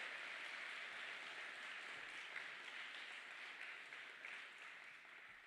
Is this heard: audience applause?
yes